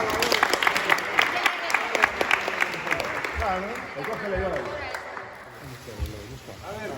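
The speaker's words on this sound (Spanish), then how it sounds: "Un aplauso para ella." A crowd claps for a swimmer at a riverside swim event during a local festival, brisk applause that fades out over several seconds while a voice talks over it.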